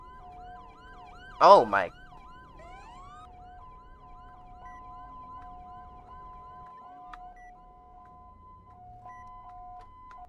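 A hi-lo police siren in the FSRP game alternates between two steady tones in a regular two-note pattern that stays clear and continuous throughout, with a brief exclamation from a voice early on.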